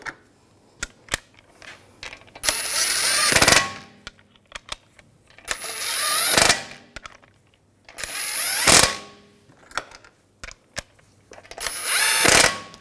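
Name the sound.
tightening wheel lug bolts with ratchet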